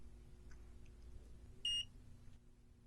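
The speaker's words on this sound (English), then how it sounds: "until you hear a second, slightly longer beep" A single short electronic beep from an ODM RP460 optical power meter sounds clearly once against a quiet, faint background hum.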